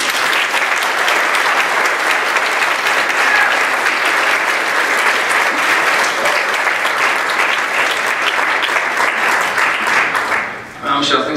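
Sustained, dense applause fills a lecture hall as an audience welcomes two guest cartoonists at a university cartoon museum event, steady and loud for about ten seconds before cutting off as a voice begins speaking.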